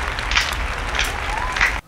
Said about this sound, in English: Slow clap, everybody.